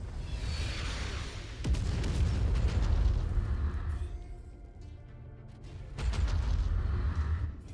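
Cannon emplacements blown apart in MechWarrior 5, heavy booming blasts with rumbling low-end bursts, two loud surges separated by a quieter mechanical lull, no speech.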